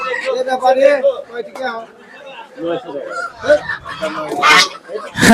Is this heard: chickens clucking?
yes